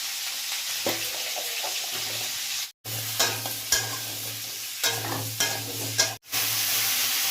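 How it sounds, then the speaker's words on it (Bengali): Potatoes frying in a pan with salt and tempering spices, a close steady sizzle broken by repeated scraping stirs and two brief silent gaps. "এবার ভাজা ভাজা করে দেবো আলুটাকে"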